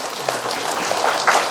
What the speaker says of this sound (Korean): 역시 따뜻한 박수로 환대해 주시기 바랍니다.